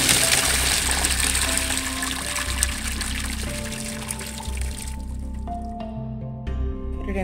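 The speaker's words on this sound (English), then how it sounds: "Cook to al dente and then drain your noodles." Boiled pasta shells being drained, a steady rush of water pouring and splashing into a sink for about five seconds, then tapering to scattered drips and small wet squishes.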